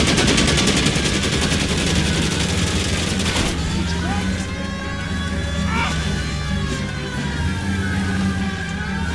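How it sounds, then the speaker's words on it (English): Continuous Thompson submachine gun fire from the video game L.A. Noire, loud and unbroken throughout, blended with engine noise and layered under in-game voices. "The unending sound of a Thompson submachine gun is a little distracting"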